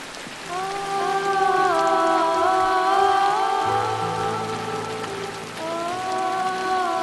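Steady rain falls throughout, a dense hiss of drops under sustained tonal music lines, with no voices.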